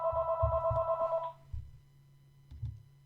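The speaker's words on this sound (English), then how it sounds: "My phone's ringing." A phone rings close by in a steady electronic trill for just over a second, then stops. Low thumps and bumps follow, with another brief knock near the end, in a quiet room during a casual podcast recorded on a couch.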